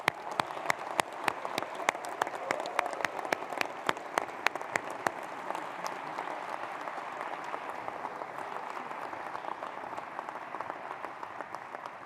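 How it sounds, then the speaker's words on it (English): A university engineering graduation audience applauds the graduating class, with sharp distinct claps standing out at first before settling into a steady, dense round of clapping. "let's give the class of 2024 a big round of applause"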